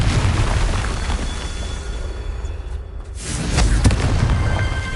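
Confringo blasting spell explosions in Hogwarts Legacy, a loud, dense burst of booming blasts and crackling debris that briefly drops out, then surges back even louder near the end.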